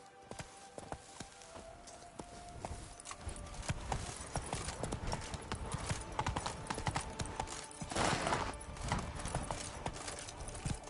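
Horse hooves clip-clop steadily at a gallop in The Witcher 3 video game, a continuous rhythmic drumming with occasional snorts over the game's ambient sound, close and moderately loud throughout.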